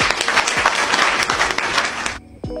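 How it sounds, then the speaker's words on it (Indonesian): A classroom of students claps for a group, dense steady applause filling most of the moment before cutting off abruptly, with a brief spatter of claps returning at the end. "Berikan aplaus untuk kelompok 1."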